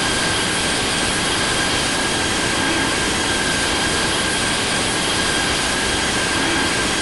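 A Boeing 777-300ER in Singapore Airlines livery takes off in Infinite Flight, producing a loud, steady, dense jet engine roar with a thin whine on top. It holds constant throughout with no voices.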